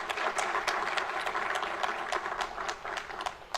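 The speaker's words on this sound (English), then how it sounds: "Can we give them a round of applause, ladies and gentlemen?" An audience at a Uganda–United Arab Emirates business summit claps steadily, a dense sustained round of applause that fills the room and holds at an even level throughout.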